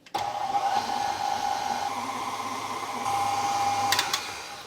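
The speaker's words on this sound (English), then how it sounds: "We're going to mix this for about 2 minutes until it is all creamed together and is really incorporated." An electric mixer creaming butter and sugar for oatmeal cookie dough, a steady whirring motor hum that starts abruptly and runs continuously, with a slight shift in pitch midway and no talking.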